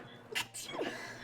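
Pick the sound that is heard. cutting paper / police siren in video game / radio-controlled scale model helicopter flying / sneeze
sneeze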